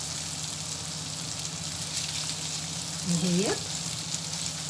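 Chicken breasts sautéing in a pan, a steady soft sizzle and crackle of frying throughout, with a brief spoken word partway through.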